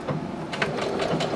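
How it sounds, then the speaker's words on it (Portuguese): A sewing machine with an N presser foot stitches lace onto a zipper, a continuous close whirring hum with rapid mechanical ticking throughout. "com a própria sapatilha N, eu já vou vindo costurando"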